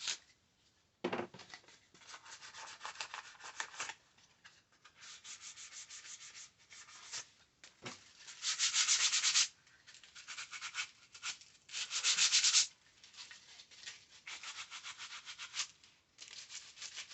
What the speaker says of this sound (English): Just got to sand the edges